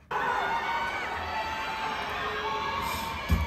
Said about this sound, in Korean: 방금 함성 소리 들리다가